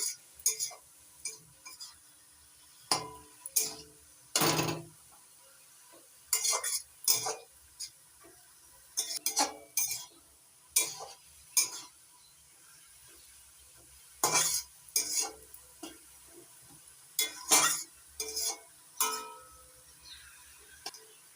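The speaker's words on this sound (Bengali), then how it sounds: "মটর শাক নাড়াচাড়া করে একটু ভেজে নিয়েছি।" Pea leaf greens mixed with salt are stirred and fried in a pan, giving repeated scraping, clinking strokes in an irregular rhythm over a faint, steady sizzle, close and fairly loud, with no voices.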